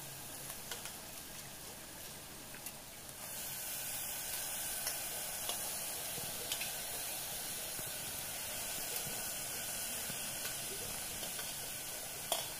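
Brown rice frying in a pan for mushroom brown rice biryani gives a steady, soft sizzle and hiss, with faint scraping stirs, continuous throughout and alone without talk.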